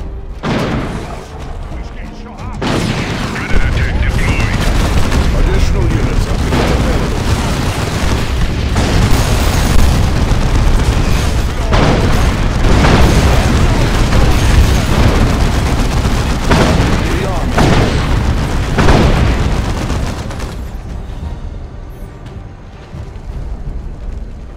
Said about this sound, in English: Readying missile launcher. My shots will strike true.